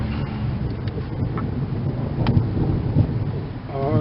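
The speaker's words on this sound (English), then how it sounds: "This thunder is getting louder" A low, continuous rumble of thunder from an approaching storm rolls steadily through the whole stretch, heard outdoors during work on a brake line. It swells slightly in places, with wind-like noise mixed in.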